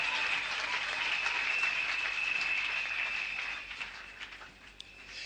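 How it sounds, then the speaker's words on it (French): Church congregation applauding during a Sunday worship service, a steady dense clapping that holds loud for several seconds and then thins and fades toward the end. "Acclame très fort pour toi-même"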